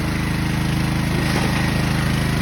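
A Matari portable generator runs hard under heavy load during a stress test, a loud, steady engine drone with a fast regular pulse throughout.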